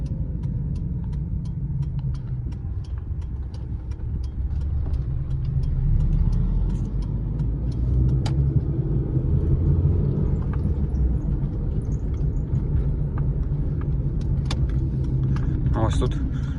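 A car heads toward the Zhytomyr highway, with a steady low road rumble and engine hum from inside the cabin. Someone talks over the drive, and small clicks and rattles come through now and then.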